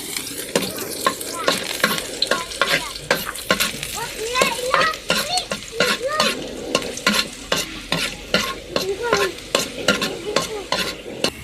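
Garlic fries in cooking oil for a bato dish, producing a loud crackling sizzle broken by repeated stirring scrapes and clinks in a busy, uneven rhythm close by.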